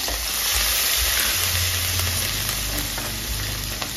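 Chopped green chillies hit hot oil with fried lentils, a loud continuous sizzle and crackle close up, with faint stirring under the hiss and no talking.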